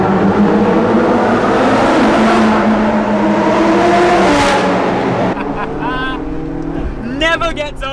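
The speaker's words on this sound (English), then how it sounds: "maybe we can get some of that insane hurricane exhaust" A supercar at a Monaco car show revs its exhaust loudly and steadily, the roar holding for several seconds before dropping away into quieter engine sounds, with shouts or voices near the end.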